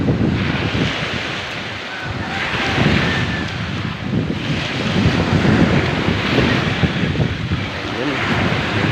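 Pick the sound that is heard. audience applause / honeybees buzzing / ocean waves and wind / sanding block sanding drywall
ocean waves and wind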